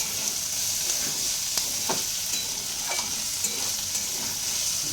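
Flattened rice for pulao frying and being stirred in a pan, a steady close sizzle with scattered scraping stir strokes throughout and no talking.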